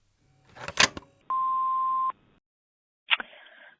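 A voicemail recording beep: one steady electronic tone lasting under a second, framed by short clicks and handling noises before and after it, in an otherwise quiet room.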